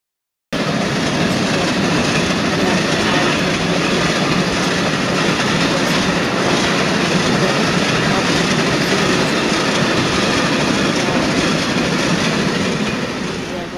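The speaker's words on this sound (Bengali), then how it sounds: "আর একটা ট্রেন আসছে" A train rushing past at close range during Kali Puja, a loud continuous roar of wheels and carriages with rattling clatter that holds steady from start to finish.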